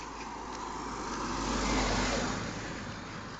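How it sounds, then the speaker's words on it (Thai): A car on a farm road in Yangju, South Korea, passes with a broad steady engine and tyre rumble that swells to a peak near the middle and then eases away, no voices. "มีรถมาด้วยค่ะ"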